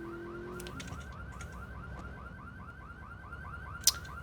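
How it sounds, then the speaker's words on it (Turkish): Car alarm from a stolen car in the video game GTA 3, a repeating two-tone wail looping steadily and loud for the whole stretch, with a brief sharp click near the end. "Kim koydu bunu alarmı ya?"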